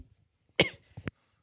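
A man coughs hard into a live microphone, one loud burst followed by a shorter second cough, close and alone in an otherwise quiet room.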